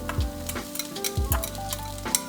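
Eggplant sizzling in a hot stir-fry pan over high heat as chilies are added, a close, steady frying hiss broken by repeated scraping stirs and a few sharp clinks.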